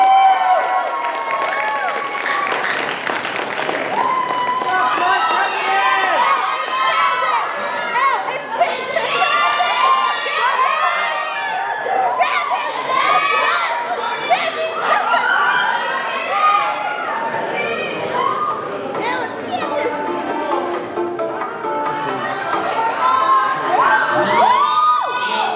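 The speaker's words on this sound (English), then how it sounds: "Let's give them a round of applause." A festival crowd at FullMoonFest cheers, whoops and applauds a performer, with excited shouts and chatter rising over steady clapping, loud and dense throughout.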